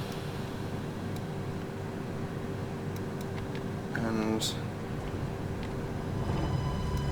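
A train in Train Sim 2020 on the Avignon to Marseille route starts off, with a steady low mechanical hum and brief tonal chirps and beeps from the cab, while someone says a single word.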